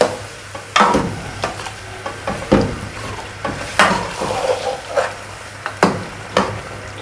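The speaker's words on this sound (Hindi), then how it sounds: "दही डाल के तो आपने मुसलसल चमचाए लाना है ताकि ये अच्छी तरह मिक्स हो जाए इसमें।" A spoon stirs yogurt into meat cooking in a pot for Pakistani aloo gosht, making repeated scraping, clinking strokes at an uneven rhythm over a soft, steady sizzle, close up.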